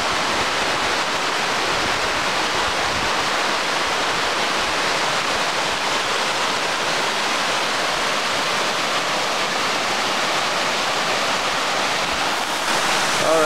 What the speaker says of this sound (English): a look about from the top of these cascades